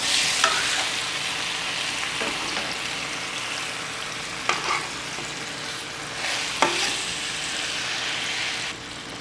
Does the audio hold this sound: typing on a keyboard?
no